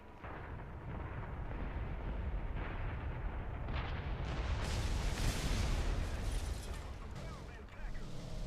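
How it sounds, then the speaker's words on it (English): Bombs from a bomber in the War Thunder video game detonate on ground targets, giving a sustained, dense rumble of overlapping explosions and booms that swells toward the middle, with low-frequency blasts continuous throughout. "all those bombs that landed on top of all the targets there"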